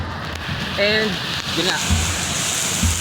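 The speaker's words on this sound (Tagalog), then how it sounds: "Basang-basa na kami ng tubig. Umuulan na." Heavy rain pours during the San Bartolome fiesta procession in 2025, a loud, steady wash of noise. People talk over it, and there are a few low thumps.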